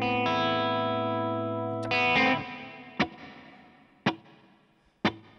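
An electric guitar played through an Axe-Fx clean reverb preset rings out in a long sustained chord, then three sharp single plucks each trail off into a spacious reverb tail.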